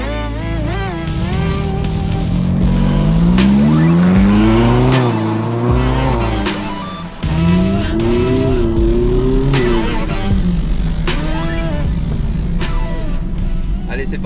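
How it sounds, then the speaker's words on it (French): A Ferrari 458 Italia's V8 engine runs and revs on a track, loud rising and falling sweeps of engine pitch with sharp gear-change breaks, close and dominant throughout. "la mélodie du V8 est déjà énorme, j'adore"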